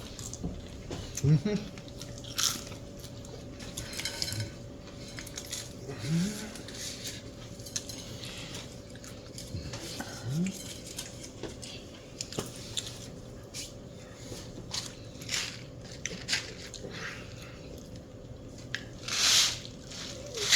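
M&M's candy crunched while eating, a series of soft irregular crunches and squishy chewing sounds scattered over about twenty seconds against a steady background hum, quiet and close.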